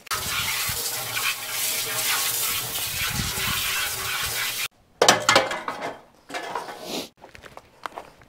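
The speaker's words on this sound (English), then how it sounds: "Oh yeah, there's some good warm water." Warm water gushing from a tap into a container for mixing concrete, a steady hiss that cuts off and then comes back in short splashing bursts.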